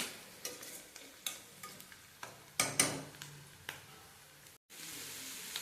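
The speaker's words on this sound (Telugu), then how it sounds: "వేగేసి కొంచెం బాగా వేగనివ్వండి." Potatoes for potato curry fry in a pan with a soft, quiet sizzle, broken by a series of distinct clicks and scrapes as they are turned, close and without speech, with a brief dropout near the end.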